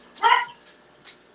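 A dog barks once loudly at close range, followed by two shorter, fainter yips a moment apart, with no talk over it.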